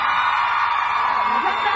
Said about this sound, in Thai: ขอเสียงกรี๊ดให้น้องฟอนด้วยค่ะ